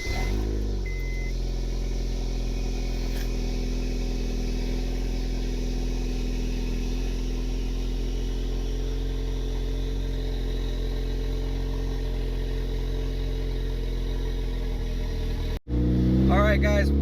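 A turbo Honda Civic with an R18 engine and open downpipe starts up and settles into a steady, loud idle drone, which cuts out abruptly near the end before resuming.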